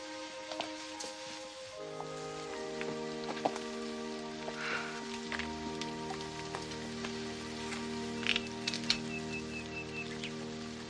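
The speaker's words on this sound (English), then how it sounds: "Oh, it's just started to rain, look." Light rain patters softly on surfaces outdoors, faint and steady, with a layer of music underneath and a few distant bird chirps.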